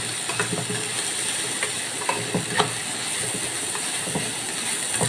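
Sliced onions fry in oil in a pan for crispy beresta, a dense, steady sizzle close by, broken by scattered light scraping taps as they are stirred.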